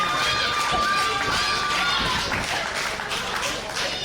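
Crowd at a wrestling event cheering and clapping for a wrestler, a dense wash of applause and shouts with whistles, while a commentator talks over it.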